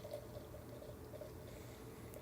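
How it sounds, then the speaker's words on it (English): Dragon's Milk stout pours from a bottle into a glass in a soft, faint, continuous gurgling stream with a low liquid rumble, no talking. "we're going to get a pour of the beer for you all"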